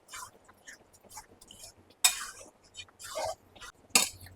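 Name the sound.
chicken chaap being stirred and sautéed in a pan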